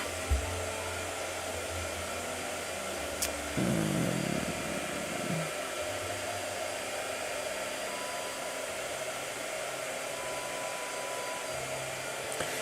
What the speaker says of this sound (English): All right, blow dry.